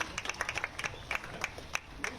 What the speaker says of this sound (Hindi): आप सभी से निवेदन करूंगी कि एक बार आभार स्वरूप जोरदार तालियां माननीय तक प्रेषित करें।